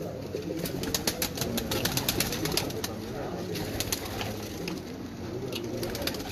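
Pure neel dumba pigeons cooing in low repeated throaty calls, close and steady, with occasional sharp clicks and faint voices in the background.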